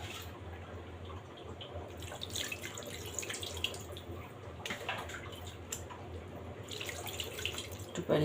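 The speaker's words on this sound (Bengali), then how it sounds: "মাংসটা যেন সিদ্ধ হয় সেজন্য আমি পানি দিয়ে দিলাম।" Water is added to beef pieces in a cooking pot for a white curry. A soft, continuous pour with splashy bursts swells and eases over several seconds, fairly quiet and close.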